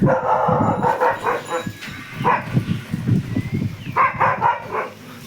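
Dogs bark in short bursts, a few at a time, at middle distance across a farm field, with some whimpering and yipping between them and no clear talk.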